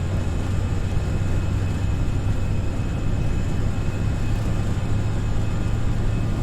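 An FSLabs A319 airliner's jet engines roar steadily at takeoff thrust in the Prepar3D flight simulator, a loud, constant rumble with a whining tone that holds unchanged throughout.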